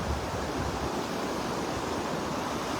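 Gulf of Mexico waves breaking steadily on a sandy beach in North Naples, Florida, a continuous close roar of surf with no voices.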